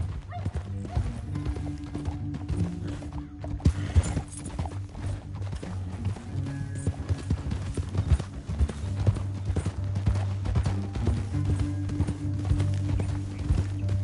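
Horses gallop in Red Dead Redemption 2, a rapid, steady clip-clop of hooves running over a continuous music bed, with no clear talk.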